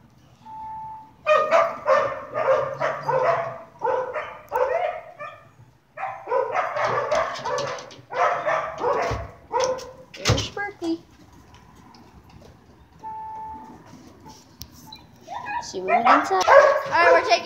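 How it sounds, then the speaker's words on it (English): Dogs bark and yip in repeated bursts, fairly close, with a voice talking over parts of it and a door-like thud midway. "my dogs are barking"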